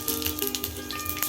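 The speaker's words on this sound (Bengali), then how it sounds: "বড়ি ভেজে তুলে নেওয়ার পরে ওই তেলেই ফোড়ন দেব" Dry chili, five-spice and bay leaf crackle in hot oil left from frying lentil dumplings, giving a steady close sizzle with scattered pops and spits and no voices.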